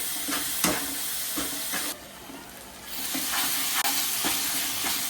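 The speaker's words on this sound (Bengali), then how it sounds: "এই মশলাটা পুরোটা দিয়ে দেবো আমি। এটা কষাতে হবে অনেকক্ষণ ধরে।" A paste of ground red chillies sautés in hot oil in a pan, giving a steady sizzle and hiss broken by repeated scraping stirs and a brief louder burst of steam.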